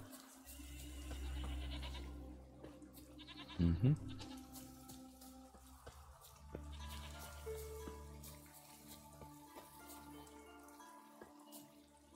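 A goat in The Witcher 3: Wild Hunt gives one loud, wavering bleat in the middle, over quiet game ambience with faint running water and low music. A person murmurs briefly.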